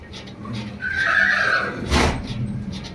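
A horse at a farm house gives a drawn-out whinny at close range, rising and wavering, followed by a sharp breathy snort, with no talking.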